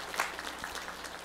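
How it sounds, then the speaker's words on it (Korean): Applause from a church congregation, a steady patter of many hands clapping for about a second, moderately loud. "하나님께 영광의 박수 올려드리겠습니다."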